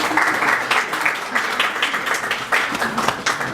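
An audience at a press conference for the 2017 Dynastie gala claps for a few seconds, a lively irregular patter of hands close by with individual claps standing out.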